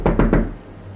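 Three quick, loud knocks on a door in close succession, then quiet room tone.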